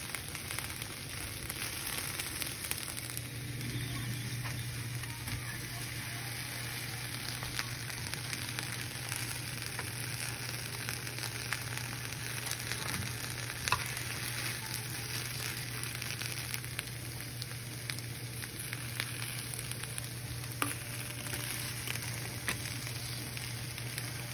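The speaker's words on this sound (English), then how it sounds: "You can see they're already starting to get brown on them, really sizzling." Continuous soft sizzling of tomatoes roasting in a pan, steady and fairly quiet, with occasional light crackles.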